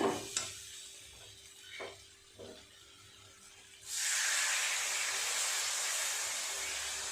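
After a few faint clinks in a quiet kitchen, just under a glass of water hits thinly sliced spiced potatoes frying in a pan, bursting into a loud, sustained sizzling hiss that continues to the end.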